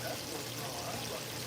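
Ice water pouring into a glass, a close, continuous splashing trickle with no talking.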